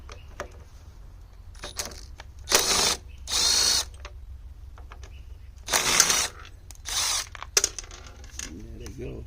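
Ratchet with a 10mm socket on a small engine carburetor, several bursts of rapid clicking in short spells separated by quieter handling sounds.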